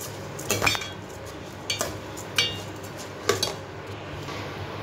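A spoon scrapes and clinks against a pot while rice with food colour is stirred, several distinct knocks spaced over a quiet background.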